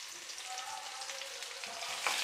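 Dry red chilli, shallots, mustard seeds and urad dal fry in a pan with a steady, close hiss and sizzle that holds evenly throughout, with no talking.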